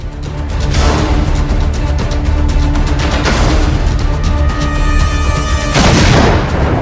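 Pakistani artillery shelling along the Line of Control, heard as a loud, continuous roar of booms and rumbling blasts that swell and overlap, with sharper cracks rising near the end.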